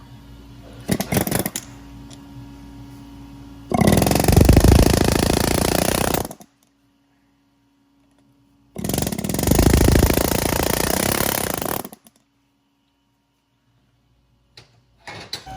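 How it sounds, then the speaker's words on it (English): Studs hammered out of a stock Ford F150 shock with an air tool during a Rough County leveling kit install, heard as two loud, sustained bursts of rapid impacts about two and a half seconds each, separated by quiet pauses. "sometimes it's easier to punch these studs out of the stock shock to ease installation"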